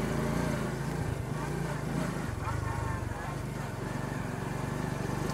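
Small moped engine running steadily while riding, with low harmonic drone and slight rises as revs build between gear changes; loud, continuous and close, no talking.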